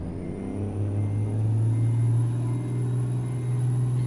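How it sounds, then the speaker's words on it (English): A custom Peterbilt truck engine in American Truck Simulator idles with a steady low hum, running evenly at a moderate, fairly quiet level. "This is a good sounding engine too."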